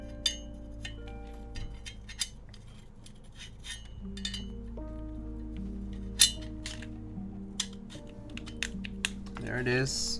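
Mechanical keyboard prototype being typed on, scattered clicky keystrokes and clacks over a low background hum, fairly close, with a brief voice near the end.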